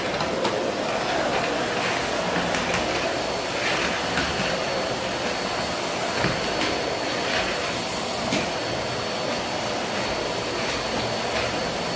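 A vacuum cleaner runs steadily over a floor during a check-out clean, a close, loud, unbroken roar with a thin high whine on top.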